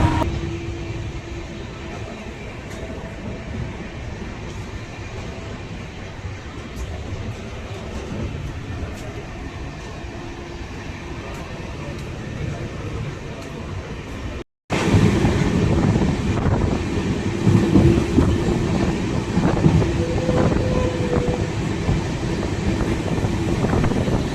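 A Coimbatore weekly unreserved passenger train runs along, with a continuous rumbling roar and wind buffeting. After a brief dropout the noise returns louder and rougher.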